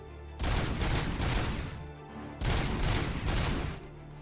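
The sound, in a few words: gun firing in the RoboCop video game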